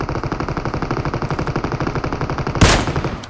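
Rapid automatic gunfire in PUBG Mobile, a steady close rattle of evenly spaced shots that ends in one louder, sharper blast.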